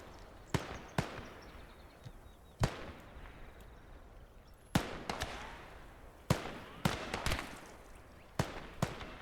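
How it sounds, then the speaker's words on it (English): Sharp, scattered gunshot cracks from a machine gun in the World War II game Gates of Hell, during a battle at Isigny. Single shots and quick pairs sound at irregular intervals over a quiet background. "Okay, there's a machine gun there."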